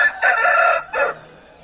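Close and loud, a rooster crows once in two bursts, a long hoarse call and then a short clipped ending, with nothing else around it.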